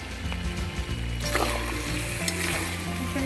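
Duck meat fries with ginger paste and whole garlic cloves for chui jhal duck curry over a clay stove, making a loud, continuous sizzle with repeated scraping stirs close by.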